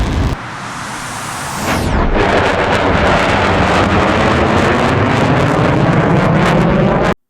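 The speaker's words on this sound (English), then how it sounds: "I want to let you guys listen to the sound of the flyby" A Miltech M2K-C jet makes a flyby in Microsoft Flight Simulator. A rising whine sweeps down in pitch, then a loud, broad engine roar with a buffeting, wind-like rush holds steady until it cuts off abruptly.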